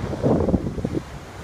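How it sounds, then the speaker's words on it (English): Wind and surf on the Sable Island shore at night, a loud continuous rushing roar that swells and eases over a second and a half, with no voices. "It's really loud because we're on like the water shore."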